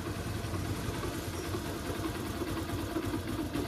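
A Honda CB Shine 125 motorcycle engine idles steadily at close range after engine repair, a continuous low rumble with an even, throbbing beat and no voices.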